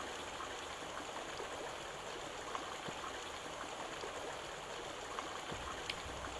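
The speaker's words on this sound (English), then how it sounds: "Spring-fed streams run through the valleys that characterize the region." Spring-fed stream in an Ozarks valley flows with a steady, soft rushing and trickling, distant and even throughout, with no voices.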